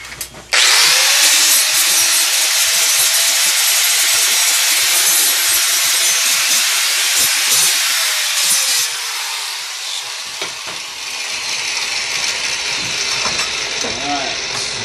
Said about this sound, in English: And now I'm going to go ahead and give it a quick grind as well.